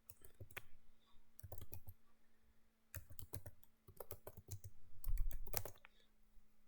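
Fingers type on a computer keyboard in rapid bursts of clicking keystrokes, pausing briefly between runs, close and fairly quiet against a faint steady hum.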